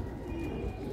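Pigeons coo softly and continuously at close range, a low murmuring call filling the whole moment without any voices.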